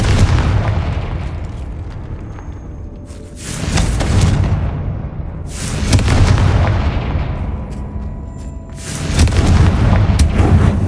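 Confringo blasting-spell explosions in Hogwarts Legacy: three heavy booms, each a loud roaring burst that swells and decays over a couple of seconds, spaced a few seconds apart with no talk.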